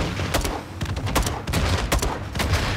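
Gunfire from Modern Warfare II, a video game, comes as a dense burst of rapid, sharp shots with a continuous crackling rumble underneath, moderately loud and without talk.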